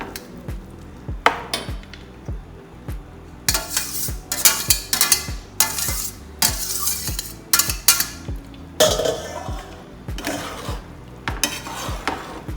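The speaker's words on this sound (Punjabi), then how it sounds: "ਹੁਣ ਆਪਾਂ ਇਸ ਵਿੱਚ ਜੋ ਚੌਲ ਆਪਾਂ ਵਾਲ ਕੀਤੇ ਸੀ ਕਲਰ ਵਾਲੇ ਉਸ ਨੂੰ ਵਿੱਚ ਕਰ ਦਵਾਂਗੇ ਜੀ ਰਲਾ ਦਵਾਂਗੇ" Colored boiled rice is stirred into sugar syrup in a pot for traditional sweet rice: a steady rhythm of close spoon scrapes and clacks against the metal, with bursts of sizzling and bubbling and no voices.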